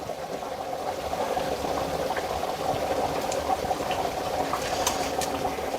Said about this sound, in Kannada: ನೋಡಿ ಇದು ಇವಾಗ ಚೆನ್ನಾಗಿ ಕುದ್ದಿದೆ, ಎಣ್ಣೆ ಎಲ್ಲ ಬಿಟ್ಕೊಳ್ತಾ ಇದೆ ನೋಡಿ ಸೈಡಲ್ಲೆಲ್ಲ